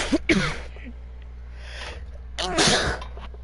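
A single person sneezes, a sharp burst preceded by a short intake, close and clear against quiet room tone.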